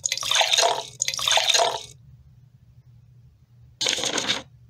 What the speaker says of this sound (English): So they added 3 cups of water and they started to stir.